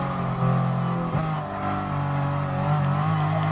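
Hypercar engine racing in Gran Turismo Sport during a La Festa Cavallino event: a steady, loud, close engine drone holds a sustained high pitch with a slight rise and fall, with no voices over it.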